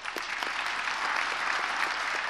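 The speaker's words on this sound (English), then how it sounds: "So again, a round of applause for that." Audience applause at an awards night in Los Angeles, a dense steady clapping from a large crowd that holds at an even level throughout with no voices over it.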